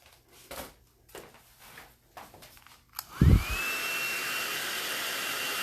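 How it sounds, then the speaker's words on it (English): A handheld blow dryer switches on partway through to dry a wet Chinese ink painting, rising into a loud, steady whirring whoosh close by after a few faint handling knocks. "I'm gonna grab my blow dryer."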